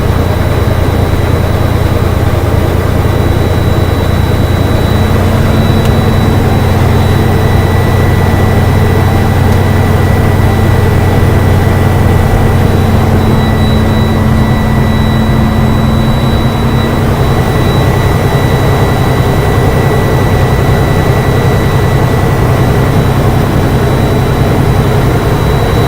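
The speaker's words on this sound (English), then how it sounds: "So what I'm gonna do is rev up the engine." An air-brake vehicle's engine runs loud and steady, a continuous droning roar with faint tonal whines layered over it, held at high revs without a break.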